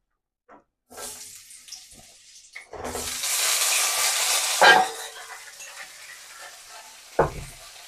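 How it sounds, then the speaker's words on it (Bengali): Pointed gourd dropped into hot oil in a wok, a sudden loud hissing sizzle that rises sharply, peaks with a splattering pop, then fades, followed by a brief clatter. "এখন এই পটলটা ভাজা নিমু সুন্দরভাবে।"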